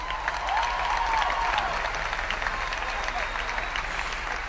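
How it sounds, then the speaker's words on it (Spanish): Audience applause for band members at a live concert, a dense, steady patter of many hands clapping throughout, fairly loud and close, with a faint tone and stray voices mixed in. "Vamos a ir haciendo un aplauso así a medida."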